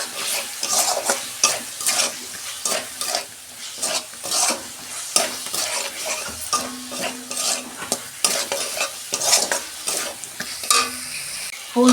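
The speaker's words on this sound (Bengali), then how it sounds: "ফুলকপি আর সিমটা দিয়ে দিচ্ছি, ভালো করে আমি কষতে নেব।" Vegetables with spices, chili powder, turmeric, tomato, peas, cauliflower and beans, are stirred and fried in a pan at home. A spoon scrapes the pan in steady repeated strokes over a continuous close sizzle.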